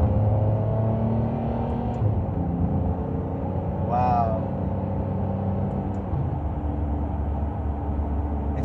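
Ferrari 599 GTB Fiorano V12 engine droning steadily from inside the car as it drives, with a brief higher rev swell partway through; no one speaks over it.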